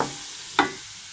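Mustard greens for sarson ka saag stir-fried in a pan, a short soft sizzle with one brief scrape of stirring midway, close and quiet.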